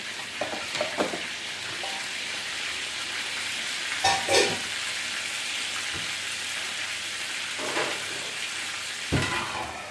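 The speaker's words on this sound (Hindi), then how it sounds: "और साथ ही इसमें मैं डालूँगी साग।" Sarson ka saag with ginger and garlic sizzling in a hot pan, a steady rain-like frying hiss with occasional stirring clatters and scrapes, close-up and without speech.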